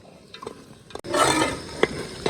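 Chicken biryani with ghee being stirred in a pot, a close scraping and sizzling rumble that swells loud after a brief pause, with a few clinks of the spoon against the metal.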